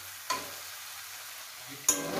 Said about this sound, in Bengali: এবার ডিমগুলো দিয়ে দিলাম, আর একটু একটু ভাজা ভাজা করে জল দিয়ে দেবো